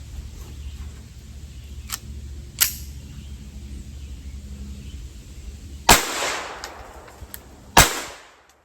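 .22 Long Rifle Blazer ammunition fired from a rifle: three sharp, cracking reports spaced a few seconds apart, each with a short decay, plus a couple of fainter clicks between them, with no talking.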